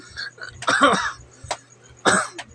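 A person coughs several times in short, harsh bursts, with a throat-clearing quality and brief pauses between the close, loud hacks.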